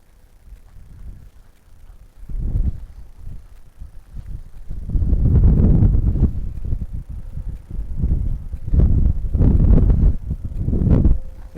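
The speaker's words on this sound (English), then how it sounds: "It's windy today" Gusty wind buffets the microphone outdoors, rising and falling in low rumbling surges with no voices.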